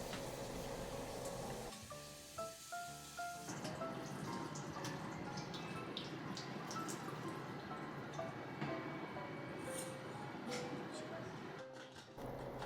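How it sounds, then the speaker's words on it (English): Cooked somen noodles are rinsed under a running tap to cool them and drain off the hot water, a steady close splashing rush with brief clinks of kitchenware near the start. "I rinse them with water to cool them down while draining off the hot water."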